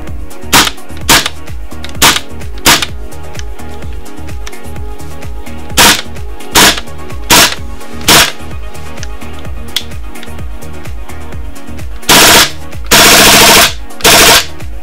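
A KWA KRISS Vector airsoft gun fires BBs in sharp, loud, close cracks, mostly spaced single shots with a quick rapid-fire burst near the end, over a steady mechanical background hum.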